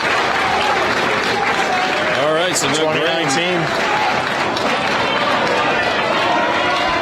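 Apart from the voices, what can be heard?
crowd cheering and applauding at cornhole championship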